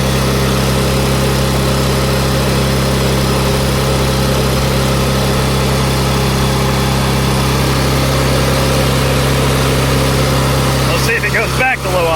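A Miller welder's engine idles steadily at low idle, a constant loud low rumble with a steady hum, the speed hunting slightly before a brief rattling disturbance near the end.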